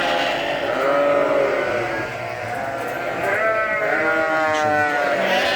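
Sarıbaş lambs at feeding time bleating repeatedly, several overlapping wavering cries close by, one after another over a soft background of farm noise.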